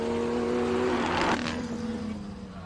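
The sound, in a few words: BMW 240 race car at hill climb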